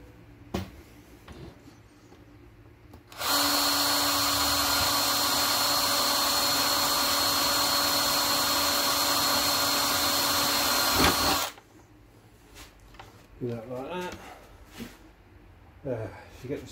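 A power drill with a 2.5mm bit bores into a series Land Rover door top, its whine holding steady for about eight seconds before cutting off, with quiet handling noises and speech around it.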